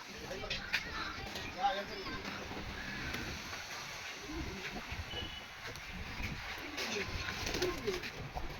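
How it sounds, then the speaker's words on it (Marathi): Pigeons coo softly at a rural roost, with low murmuring calls running under ongoing human talk and light background noise. "परत आता अर्ध्या तासाने कबूतर आलेत बघा"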